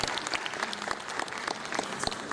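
A conference audience at a climate change and renewable energy event in Freetown, Sierra Leone applauds, brisk scattered clapping at moderate level, steady throughout the short burst.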